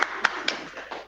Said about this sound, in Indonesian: Ya, tepuk tangan semua untuk kalian.